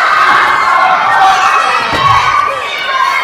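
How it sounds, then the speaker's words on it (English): A wrestling crowd at a 3WA Carnage 46 show in Norristown roars and shouts loudly and steadily throughout, with children's voices and a thud rising from the din. "This crowd is all going crazy for this match"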